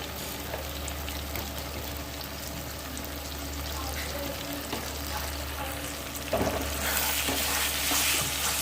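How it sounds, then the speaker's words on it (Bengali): Paneer masala stir-fried in a pan, with steady close sizzling and scraping stirring throughout that grows brighter and louder toward the end. "ভালো করে এবার কষিয়ে নিতে হবে"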